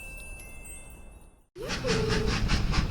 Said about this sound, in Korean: 기차 트로이